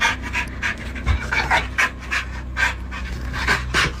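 A small, solidly built dog pants excitedly indoors with quick, rhythmic breaths, close and clear, for the whole stretch.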